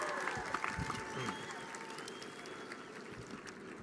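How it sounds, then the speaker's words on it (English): A graduation audience at a 2017 commencement claps, a dense burst of applause that gradually fades, with some voices mixed in. "Give yourselves a big round of applause."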